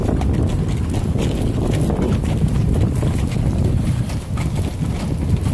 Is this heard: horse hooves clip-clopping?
yes